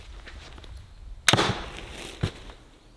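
A crossbow bolt fired from about 3 meters into bubble wrap: a sharp, loud impact crack followed by a brief rustle, then a softer second hit, heard over faint background noise.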